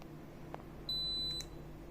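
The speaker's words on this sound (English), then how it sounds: "You press both of them together, hold for just about maybe 2 seconds, and it will beep" A GPS action camera remote gives a short, bright electronic beep once, lasting about half a second, clear above a low steady background hum.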